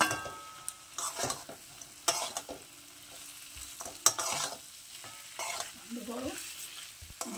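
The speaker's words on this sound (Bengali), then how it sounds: "এরপর দিয়ে দেবো ভেজে রাখা মাছ।" Fried tangra fish goes into a pan of sizzling burnt masala, with close frying hiss, repeated stirring scrapes and clinks of a utensil against the pan, no talking.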